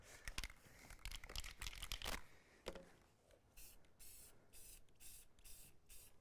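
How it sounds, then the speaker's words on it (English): Short bursts of clear coat aerosol spraying from a spray can hiss repeatedly, mixed with rustling and handling noises, followed by a rhythmic series of brief spray blasts, during woodworking. "you're going to take some of that spray clear coat"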